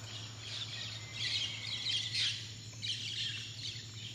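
Chirping bird song plays continuously in a wellness room alongside ambient music, with bright, rapid tweets clustered in bursts over a steady low hum.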